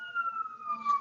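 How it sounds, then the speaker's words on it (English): A police siren wails outside a window, a single slowly falling tone heard at moderate distance, alone without talk. "Sirens."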